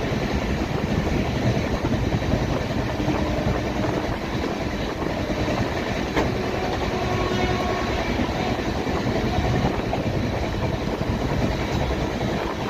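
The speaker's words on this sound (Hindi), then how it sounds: "ट्रेन की रफ्तार के साथ पटरी की रफ्तार लग रहा है कि पटरी पीछे भाग रही है।" A passenger train on the Asansol to Patna route rolls along the rails with a loud, continuous rumble and steady rattling, heard from inside for the whole stretch.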